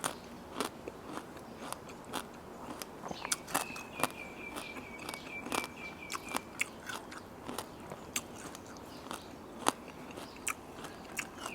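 Someone chews crunchy Thai pickled fruit bought from 7-Eleven, with close, crisp bites and crackly crunches repeating irregularly throughout, with no talking.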